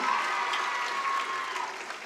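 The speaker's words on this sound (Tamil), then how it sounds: "இந்த கைத்தட்டல் போதாது" An audience at an on-stage political speech event applauds in a steady, moderately loud wash of clapping that fades slightly toward the end, with a faint voice-like tone underneath.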